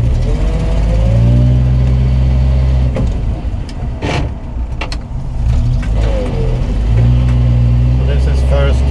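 Volvo TP 21 military off-road vehicle driving in first gear, low range: a steady, loud engine drone with harmonic whine, broken by a few clunks and rattles midway, then settling back into the same hum.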